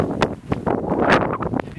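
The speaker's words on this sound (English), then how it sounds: "Yeah, it's a little windy, so probably couldn't hear it." Wind buffets the microphone in loud, uneven gusts, producing rumbling bursts and thumps that rise and fall.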